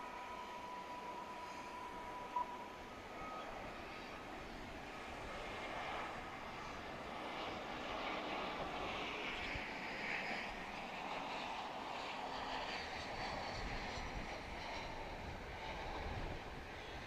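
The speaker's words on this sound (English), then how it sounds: "American Flight 1832 from Denver, Colorado, and Airbus A321 is our next guest." American Airlines Airbus A321 arriving from Denver and landing at DFW Airport at night, a steady broad jet roar that swells gradually and holds loud for the whole stretch, with no voices over it.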